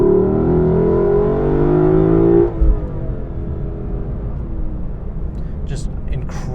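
A 2020 Lexus LC 500 engine revs loudly with a steadily climbing pitch for about two seconds. It then cuts off sharply and drops to a lower, rumbling idle.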